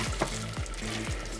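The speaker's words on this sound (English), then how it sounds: "I'm going to leave the flour sitting in there cooking" Flour cooks in a pan for a bechamel sauce, with soft sizzling under repeated scraping stir strokes every half second or so, close by.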